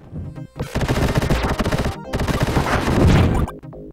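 Gunfire and explosions from the Sega Genesis game Vectorman come in loud, rapid bursts of shots with crashing blasts. Two short pauses break the bursts.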